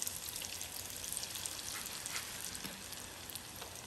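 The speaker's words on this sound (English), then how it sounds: "Put it in your pan, and then go ahead and get it in the grease, just like that." Breaded soy chicken pan frying in grease gives a steady, close hiss and crackle of sizzling oil, with scattered pops throughout and no talking.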